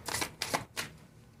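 Tarot cards being shuffled and drawn, three quick soft papery riffles close by, with no talk.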